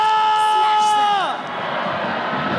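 A packed arena crowd cheers and roars during an MPL Mobile Legends esports upper-bracket final, a loud steady wall of crowd noise rising after a sustained tonal sweep that drops away early on.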